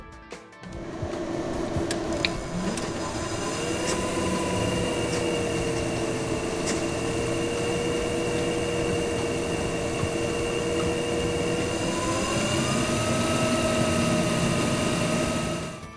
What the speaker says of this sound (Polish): W czasie uruchamiania komputera oraz przy jego pełnym obciążeniu dźwięk może być dokuczliwy